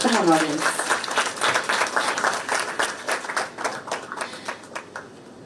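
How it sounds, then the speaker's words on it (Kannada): Dense applause from a crowd at a film trailer launch event fills the whole stretch, loud at first and gradually thinning, with some cheering mixed in. "ಚಪ್ಪಾಳೆ ಸದ್ದು ಕೇಳಿಸ್ತೀರ"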